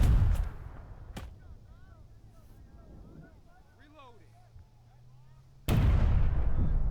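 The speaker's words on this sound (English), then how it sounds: "Is he return firing with artillery?" Artillery fire in the wartime strategy game Burden of Command: a heavy boom opens, a sharp crack follows about a second later, and a second loud blast erupts near the end over a low rumbling background, with voices faintly audible.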